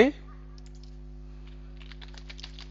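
Keys tapped on a computer keyboard while a network access-list command is entered in a terminal, a loose run of light clicks that quickens toward the end over a steady electrical hum.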